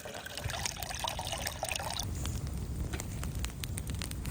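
Water trickles and pours outdoors in freezing winter conditions while tea is made at a camp without shelter, a steady close liquid stream running for about two seconds before fading into quieter dribbles.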